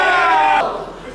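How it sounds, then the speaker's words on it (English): Wrestling crowd at a Philippine pro wrestling match, fans loudly calling and shouting together in a dense roar that drops off partway through. "You can even hear fans in the crowd pointing out the moments they recognize in the middle of the match"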